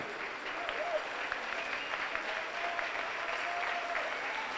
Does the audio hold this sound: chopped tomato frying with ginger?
no